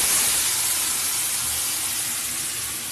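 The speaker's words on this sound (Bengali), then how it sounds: "এবার আমি মশলাটা দিয়ে কষিয়ে নেবো" Spices frying in oil in a pan for a soybean and potato curry with curry leaves give a steady, loud, close hiss with no talking.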